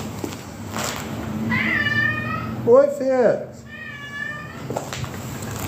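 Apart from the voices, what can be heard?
pet cat meowing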